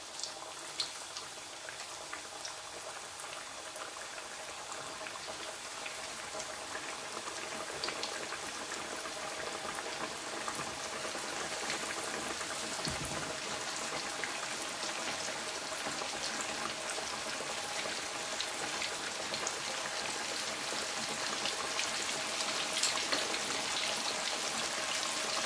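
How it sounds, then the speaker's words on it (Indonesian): Beef steak sizzles in hot frying oil, a steady close hiss with bubbling crackle that holds for the whole stretch and grows slightly louder, with no talking. "kalau minyaknya udah panas nih, kita goreng nih ya bisteknya ya"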